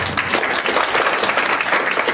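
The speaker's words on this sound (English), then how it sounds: "a round of applause for him" Audience clapping for a committee chair at the Kenya Internet Governance Forum 2018, a full, steady patter of many hands, fairly loud and close, continuing evenly throughout without speech.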